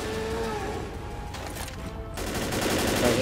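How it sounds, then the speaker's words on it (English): In the Left 4 Dead game, a hunting rifle fires a couple of sharp, separate shots that cut through a droning, tonal background of game ambience, fairly loud and without speech. "I'm gonna go get the sniper and shoot him down."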